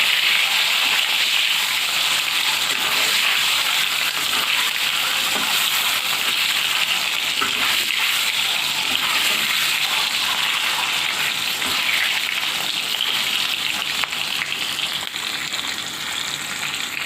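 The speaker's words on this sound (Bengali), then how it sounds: "এখন অল্প আছে ডিমগুলো লাল লাল করে ভেজে নিব।" Peeled boiled eggs coated in turmeric, chili powder and salt frying in hot oil, a loud, dense, steady hiss and crackle that runs unbroken throughout with no voices.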